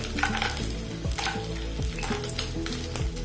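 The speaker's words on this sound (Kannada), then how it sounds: "ಗೇರು ಬೀಜವನ್ನು ಕೂಡ ಫ್ರೈ ಮಾಡಿಕೊಳ್ಳ" Cashew nuts fry in a pan with grated jackfruit-rava mixture for a breakfast snack, a continuous close sizzle overlaid with scraping stirs and clinks of a spoon against the pan.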